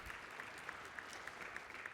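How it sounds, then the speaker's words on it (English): Conference audience at a morning keynote by a former Washington governor giving applause, a faint, distant, even patter of many hands with no talk over it. "Give yourself applause for what you are doing to do that."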